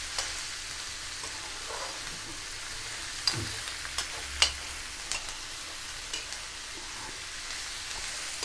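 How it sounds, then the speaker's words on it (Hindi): Onions frying in oil in a pan for a vegetable jackfruit biryani, a soft steady sizzle running throughout with occasional small pops and the odd stir or clink of a utensil; no one speaks. "चलो जब तक ये प्याज पक रहा है"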